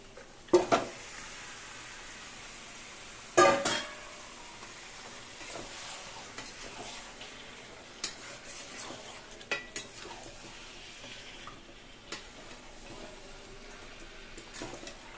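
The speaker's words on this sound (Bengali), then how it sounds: "মাংসের জন্য এই মশলা কষাচ্ছি, এবার মাংসটা দিয়ে দেবো।" Spice paste for a meat curry sautés in a pan with a faint, steady sizzle, punctuated by occasional sharp clanks and taps of a spoon against the pan, spaced irregularly with quiet stretches between.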